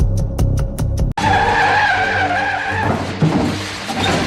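A car skids with a tire screech as it pulls away, the screech running loud and steady for a few seconds after a short burst of sharp impacts, with engine noise underneath.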